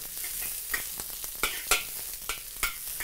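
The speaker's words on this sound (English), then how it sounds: "Add in 3 bulbs of shallots, cut thinly like this. Put them in first. Same thing, fry until you can smell them." Three thinly sliced shallot bulbs fry in oil in a pan for a noodle stir-fry: a constant near sizzle with a handful of sharp spatula taps and scrapes spaced through it.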